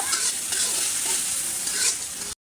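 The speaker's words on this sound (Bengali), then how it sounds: "পেঁয়াজটা ভাজা হয়ে গেছে" A bright, continuous sizzle of onions frying in oil, close and fairly loud, with a few swells as the pan is stirred before it cuts off.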